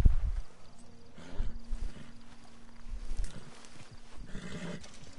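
Horse in the video game Red Dead Redemption on PS4: steady hoof clip-clop with snorting and a brief whinny, moderately close over game ambience, no talk.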